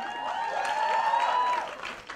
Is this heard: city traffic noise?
no